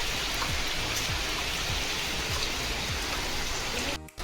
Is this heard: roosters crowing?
no